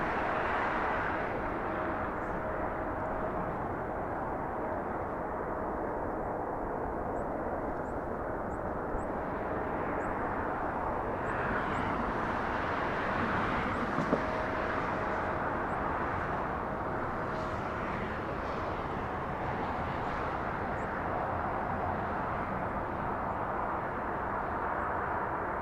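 At Los Angeles International Airport, an airplane's engine roars steadily from a distance on runway 24 left, a broad continuous rumble lasting the whole stretch with no voices.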